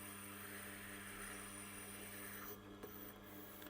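A Japanese single-bevel knife pressed against the turning stone of a Tormek T8 sharpener gives a continuous rasping grind over a steady machine hum, with a brief pause near the end.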